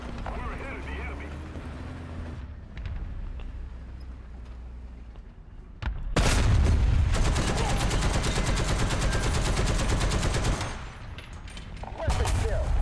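A tank gun fires in the War Thunder video game. A low engine drone plays at first, then a loud, close blast sets off a long, dense crackle of gunfire and rumble that fades and flares again near the end.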